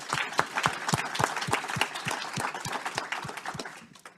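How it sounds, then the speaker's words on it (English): Audience applauding the panelists at a panel discussion on ending hunger and malnutrition, sharp individual claps close by in a steady rhythm over a lighter background patter. "a round of applause for all the panelists"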